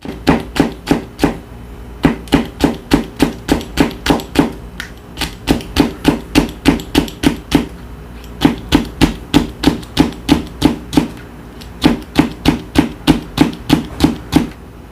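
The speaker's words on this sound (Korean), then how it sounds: "고추는 양 끝에 날리고 반으로 잘라줍니다" Rapid, steady chopping of chili peppers with a knife on a cutting board, the trimmed pods halved and seeded; crisp, close strikes repeat in quick regular bursts with brief pauses between runs, no talk.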